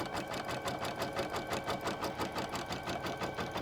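An embroidery machine stitches a crazy quilt patch with a fast, steady mechanical whirr and rapid regular needle pulses, continuous and close.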